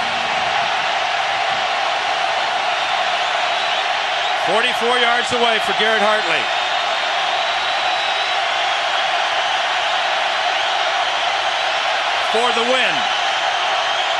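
A loud, steady football stadium crowd roar fills an Oregon home game against Oklahoma, sustained throughout while a commentator's voice talks over it in two short bursts.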